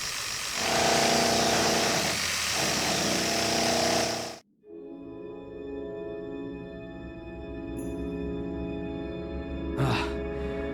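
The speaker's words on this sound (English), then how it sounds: "I've drilled more than 24 holes now. It just doesn't want to break." Harsh, loud drilling into hard stone in a video game grinds steadily for about four seconds, breaks off sharply, then gives way to a quieter droning tone with a brief clank near the end.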